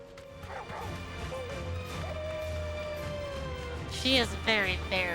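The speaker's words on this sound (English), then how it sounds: "Stop barking at the kitty." A small pet dog barks and yips near the microphone at a cat indoors, a few sharp barks toward the end over a steady background hum and game audio.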